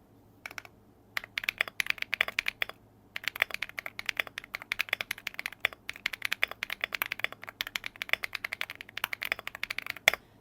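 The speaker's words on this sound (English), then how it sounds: "it is still not an accurate capture of the sound of the Rainy 75 keyboard" Keystrokes on a Rainy 75 mechanical keyboard patter in rapid, sharp clicks after a brief quiet start, with short gaps between bursts, close and moderately soft with no talking.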